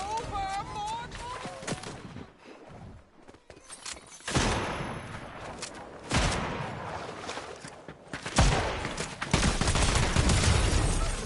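Repeated bursts of gunfire from a gun in a video game, loud and broadband, clustering in volleys through the second half with some game voice sounds early on.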